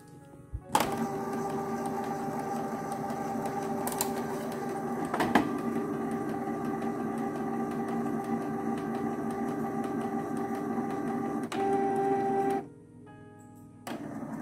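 A Canon inkjet printer prints a nozzle test page after its ink supply tubes were cleared, a steady mechanical whirr and hum running for about twelve seconds, opening and closing with sharp clunks.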